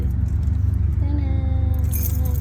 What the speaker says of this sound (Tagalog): Tapos, ito yung susi.